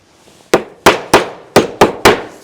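Six sharp hammer blows tacking fiber-cement siding trim together, close and loud, struck in an uneven rhythm with short ringing decays between hits.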